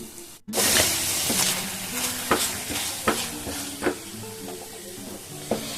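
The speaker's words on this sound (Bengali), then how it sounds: "এবার খুব ভালো করে আরেকবার 5 মিনিট অন্তত এভাবে কষিয়ে নেব।" Chicken coated in turmeric is stir-fried in a pan, a sudden loud sizzle that settles into a steady hiss punctuated by repeated sharp scraping stirs.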